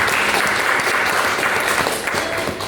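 Dense, steady applause from a church congregation fills the space, many hands clapping together at an even level throughout with no pause.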